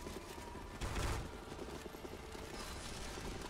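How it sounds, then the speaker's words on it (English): Gunfire in a CS:GO zombie-escape boss fight: dense, continuous shooting with a louder burst about a second in, heard alone. "Just shoot the boss. Shoot the boss."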